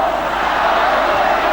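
Stadium crowd at a 1995 Copa America football match between Argentina and Chile in Paysandu, a steady, dense roar of cheering fans filling the whole moment without pause.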